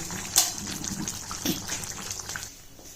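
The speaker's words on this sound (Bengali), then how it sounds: "হয়ে গেছে আমার রুই মাছ দিয়ে বেগুন বড়ি। এখন আমি এটাকে ঢেলে নেব।" Rohu fish and lentil dumpling curry with eggplant poured out of the cooking pot, a short liquid gush near the start and another splash midway, then a softer trickle that fades near the end.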